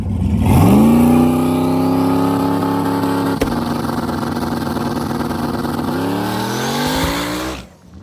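A Nissan 240SX with a swapped LS V8 makes a full-throttle drag strip pass, its loud engine note climbing steadily in pitch for several seconds, shifting, then fading at the end of the run.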